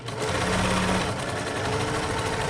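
A sewing machine stitches a tote bag seam in a steady, rapid mechanical whir, close and loud, running continuously for the whole stretch with no talk.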